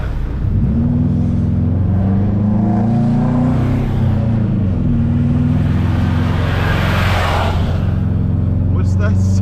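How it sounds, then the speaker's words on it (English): A car engine drones loudly and continuously at close range, its pitch sliding up and down as it revs, with voices talking over it. "Why does that car make that sound?"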